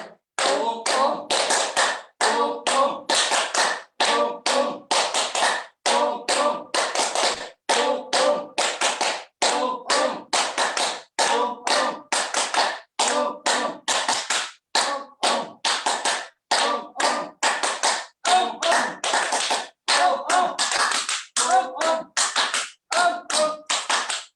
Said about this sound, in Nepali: ताली वादन